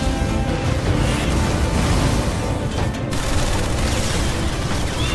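Gatling gun fire from the Shangri-La Frontier anime, a loud, continuous rattling barrage with booming bursts, sustained without pause and no voices over it.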